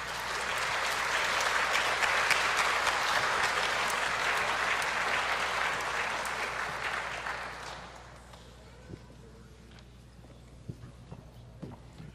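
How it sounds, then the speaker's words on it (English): Church congregation at Collegedale Community Church breaks into sustained applause for about seven seconds, then fades to quiet room tone with a few small knocks and shuffles. "Let's give him a round of applause."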